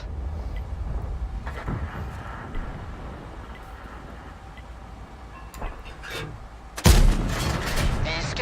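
Strv S1 tank cannon fire in a World of Tanks-style video game: a low rumbling battle ambience with occasional distant thuds, then one loud, sharp cannon blast with a ringing tail near the end.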